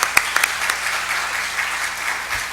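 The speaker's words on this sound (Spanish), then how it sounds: "a quien recibimos con un fuerte aplauso" An audience at an international arbitration congress applauds to welcome a speaker, steady dense clapping with a few sharper claps early on, filling the room without any talk.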